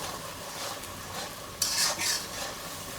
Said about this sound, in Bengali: সব রকম মশলা দিয়ে কষিয়ে নিচ্ছি এখন আমি।